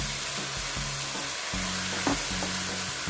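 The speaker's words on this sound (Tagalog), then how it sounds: "So, We can now add the all-purpose flour." Chicken stew cooking in a pan as all-purpose flour is added and stirred, with a steady close sizzle and a repeating scrape of the spoon, no talk.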